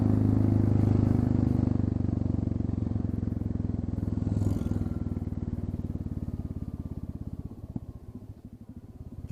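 A Royal Enfield Classic 350 motorcycle with its exhaust tip removed idles nearby, a steady low thumping engine note running throughout with a slight dip near the end.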